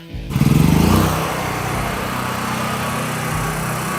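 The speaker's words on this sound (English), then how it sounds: "unfortunately I gotta fire up the generator now, so it's gonna get loud" A portable generator cranks with a brief chugging pull, then catches and settles into a loud, steady engine drone that runs on unbroken, close and alone.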